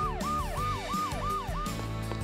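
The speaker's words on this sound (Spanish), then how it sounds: "Hola, ¿ambulancia?" An ambulance siren wails in a rapid repeating up-and-down pattern, about four cycles, loud and close over a steady background of engine and road noise, with no talk.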